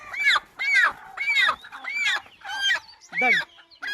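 Native country chickens on a farm give a run of about seven rhythmic, evenly spaced calls, close and clear over a quiet background.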